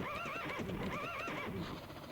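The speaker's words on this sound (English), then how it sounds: "those lizards that make horse noises" Lizard-like creatures in a video game let out a loud horse-style whinny with warbling, neigh-like cries and hoof clip-clop underneath, short and close.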